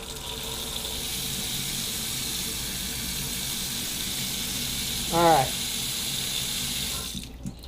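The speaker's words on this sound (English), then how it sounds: "And then we're just going to take some tap water out here." Tap water pours steadily from a faucet, a continuous hiss lasting several seconds, with a short spoken word partway through before the flow cuts off.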